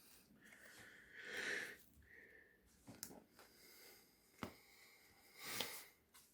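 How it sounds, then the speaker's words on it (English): Heavy, audible breaths and sniffs close to the mic, a few sharp inhales and exhales with short pauses between, no talking over them. "Sorry for the heavy breathing."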